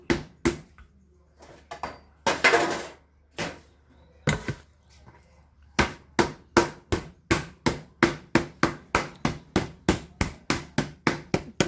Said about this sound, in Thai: ทุบให้นุ่มหมู